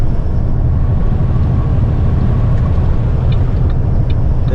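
Steady, loud low-end engine rumble and road drone from a Kenworth T800 truck hauling an oversized load, continuous throughout with no talk.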